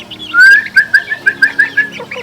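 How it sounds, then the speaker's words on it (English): A person whistles a quick run of about eight short, chirpy notes in a steady rhythm, close and loud, to call chickens. "One thing I do in order to train the birds is I do a little bit of a whistle."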